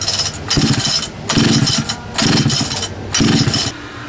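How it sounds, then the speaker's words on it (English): Scrap-picked chainsaw engine under repair, revving in four loud bursts separated by brief dips to a lower sputter, close to the microphone. "They love the sound of chainsaw."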